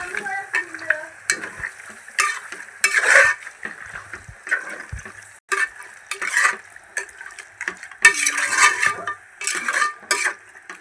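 Mutton with salt and turmeric is stirred in a pan, giving irregular bursts of scraping and clattering utensil strokes over a soft sizzle, close and fairly loud, with no talking.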